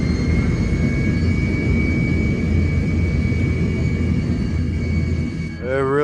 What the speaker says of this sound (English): See how the Tupolev is warming up its engines?